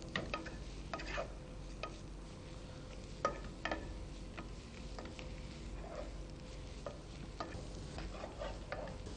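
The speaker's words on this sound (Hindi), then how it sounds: "एक बर्तन में देसी घी ले लें और इस दूधी को उसमें डालें, और उसके बाद इसको थोड़ी सी देर तक भूनें" Grated bottle gourd roasting in desi ghee in a pan, a soft continuous sizzle broken by frequent clicks and scrapes of stirring, close and steady without speech.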